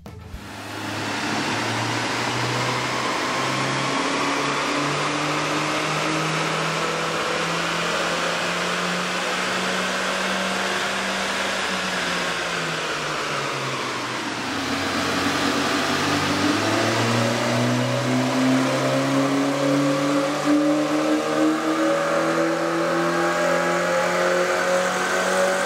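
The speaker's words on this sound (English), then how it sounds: "With the air intake installed, we ran the vehicle on the dyno to test the sound comparison versus the stock intake." A Honda CR-Z 1.5L engine fitted with an aftermarket air intake revs steadily on a dyno, its tone climbing through a long pull, dipping briefly, then rising again loud and close with no talk.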